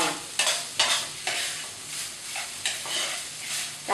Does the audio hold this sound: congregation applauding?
no